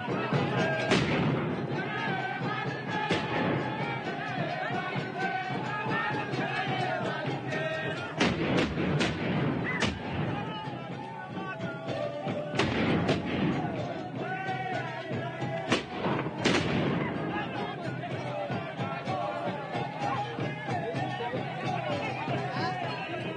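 Repeated gun blasts from a mock battle at a Dogon funeral boom out amid a busy outdoor crowd, with chatter and shouting continuing throughout.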